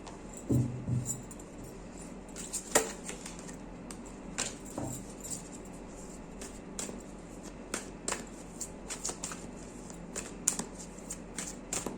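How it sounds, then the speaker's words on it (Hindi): Tarot cards shuffled by hand in a quiet room, a steady run of soft papery riffles and light taps spread through the stretch, with no voice over them. "बाद में इसको शफल करेंगे।"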